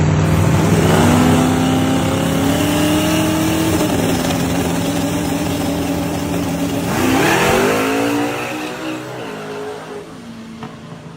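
A small-tire drag racing car makes a no-prep first-round pass down the strip, its engine roaring loudly and steadily, climbing through the gears with a brief shift near the end before fading as it pulls away.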